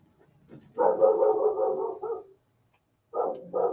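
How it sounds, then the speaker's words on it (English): A dog barks nearby indoors in a home studio during a watercolor session, a short rapid run of barks followed by a pause and then two more quick barks. "Hear my dog? There's my dog again."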